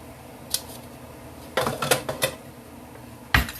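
Dry pasta shells, eight ounces, poured into a pot of boiling water, giving a short rattle and then a dense cluster of clattering hits, with a final sharp clink.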